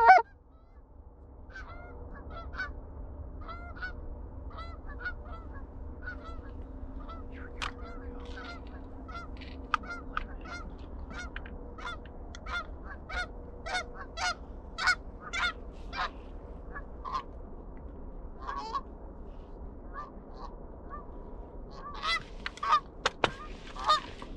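Geese honk over ice on a waterfowl hunt, sending a faint, scattered run of repeated calls across quiet open air. A sharp thump opens the sequence, and the calls grow busier toward the end.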